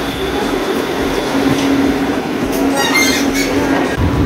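Steady rumble of a three-section speed tram in Kyiv riding along the rails, with a constant hum, brief wheel squeals and light clatter, heard from inside the car.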